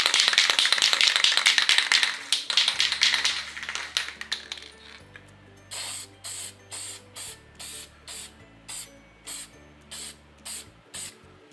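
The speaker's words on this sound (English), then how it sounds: "I'm gonna spray some workable fixative on this." An aerosol can of workable matte fixative sprays onto a drawing in a long continuous hiss, then in a run of short, regular bursts, close by.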